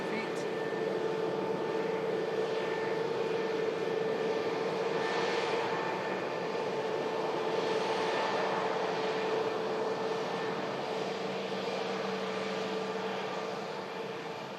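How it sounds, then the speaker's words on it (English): A British Airways shuttle airliner, an A320neo, on short final to land, giving a continuous steady engine drone with tonal whine that holds evenly for the whole stretch, a voice talking over it. "now the British Airways shuttle service on the final few feet"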